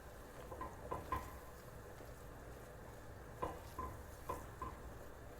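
Flour stirred into melted butter in a pan to make a roux for béchamel, a soft steady scraping and gentle sizzle up close with occasional sharper utensil knocks against the pan, heard alone.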